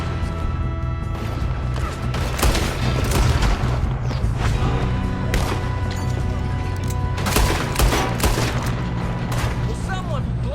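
Gunfire and crashing impacts during a train robbery in Red Dead Redemption II, irregular loud cracks over a steady rumbling train, with shouting voices mixed in.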